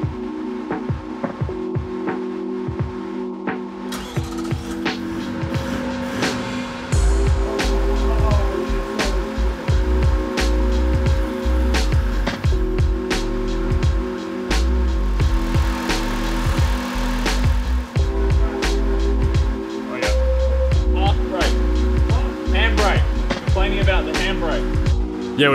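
V8 diesel hybrid Land Cruiser engine being cranked and then running, with a steady low rumble and tonal whine under repeated sharp clicks and knocks, and people talking nearby.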